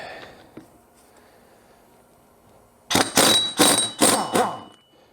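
A pneumatic air gun is used on the engine of a Honda TRX350TM Rancher ATV, firing four loud, close hammering bursts in quick succession after a few seconds of near quiet.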